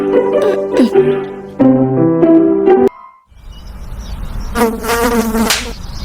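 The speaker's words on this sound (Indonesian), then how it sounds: "Ish, nyamuk ni tak habis-habis." Mosquitoes in a park drone close and loud in a shrill, wavering whine that bends in pitch. The buzzing breaks off briefly midway and then swells back in.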